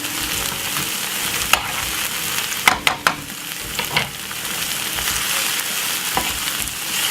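Garlic and onion sizzling in a frying pan, a steady close-up hiss broken by a few sharp clinks and scrapes of stirring near the middle, with no voices.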